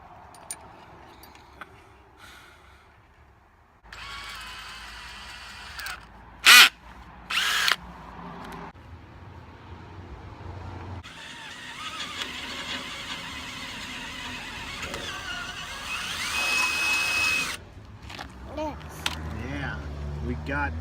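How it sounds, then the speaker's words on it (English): A power drill whines in bursts while drilling out an old broken bolt on a truck's taillight housing mount, with sharp high squeals, long grinding stretches and people talking between runs. "we've got a old broken bolt in the other side, so we're gonna have to drill that one out too"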